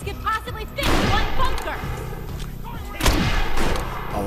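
Gunshots in the Defiance video game, a couple of sharp, loud blasts about two seconds apart over game music and noise, with a voice speaking briefly.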